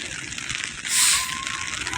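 Rain falls on a fishing boat on Manila Bay, a steady hiss of drops with a brief louder gush of water in the middle, heard up close.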